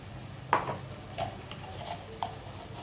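Cumin-powder spice masala frying in a pan while a spatula stirs it, a soft continuous sizzle broken by a few distinct scraping strokes, quiet and close.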